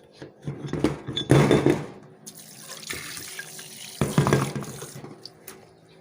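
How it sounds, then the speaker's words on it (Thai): Tap water runs over brake parts from a sticking, dragging wheel brake being washed, in uneven bursts with clinks of metal parts in the flow, fairly close and with no talking. "นี่ครับเราก็ได้ทำการล้างเรียบร้อยแล้วนะครับ"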